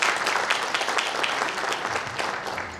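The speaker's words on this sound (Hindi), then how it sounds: "एक बार जोरदार तालियां चाहेंगे।" Audience applause for an advocate called to the stage at a formal ceremony, a dense, steady wash of many hands clapping throughout, moderately loud and without any speech over it.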